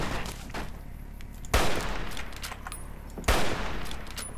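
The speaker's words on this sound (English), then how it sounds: "Someone's shooting at me" Gunfire in Fallout New Vegas, Honest Hearts DLC: two sharp, loud shots about 1.7 seconds apart over low game ambience, with faint smaller crackles between them.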